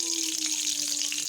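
Oil hitting a hot wok gives a steady, close, hissing sizzle that runs unbroken and fairly loud, with a low hum in the background and no voices.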